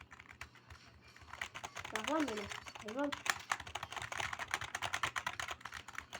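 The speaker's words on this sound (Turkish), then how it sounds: "Bu arada klavye sesinden rahatsız olduysanız özür diliyorum." Rapid clatter of keys on a computer keyboard while playing Mortal Kombat, close and continuous, while someone speaks Turkish in short bursts over it.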